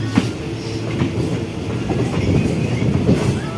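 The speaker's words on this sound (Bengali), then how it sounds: "ওই যে ট্রেন বেরিয়ে যাচ্ছে" A train rolls out of a suburban rail station on the Bangaon–Sealdah line, its steady clickety-clack of wheels on track filling the whole stretch at moderate loudness, with no talk over it.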